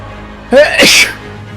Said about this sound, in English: the sneeze echoed through the theater like cannon fire